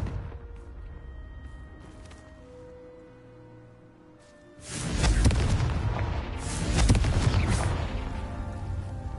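A Confringo spell explosion in a video game on PS5: after a quiet stretch with soft tones, a loud, sudden blast erupts and rumbles on with a second swelling boom.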